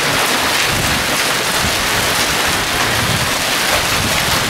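Hail pelts down on a home patio in a loud, dense, unbroken roar of pattering impacts, steady throughout with no speech.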